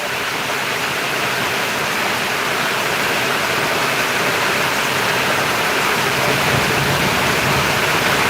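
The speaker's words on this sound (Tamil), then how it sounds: "சவுண்டு ஓவராக கேட்குது மழை பெய்கிற சவுண்டு" Heavy rain falls without letup in a thunderstorm in Valliyur, a thick continuous roar of water that holds steady throughout.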